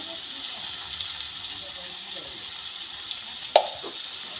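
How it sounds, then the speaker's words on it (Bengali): Garam masala being stirred into a banana flower and prawn curry (mochar ghonto) in a pan, giving a soft steady sizzle with a single sharp clink of the spoon against the pan near the end. "গরম মশলাটা দিয়ে খুব ভালো করে মোচার সাথে মিশিয়ে দিলাম"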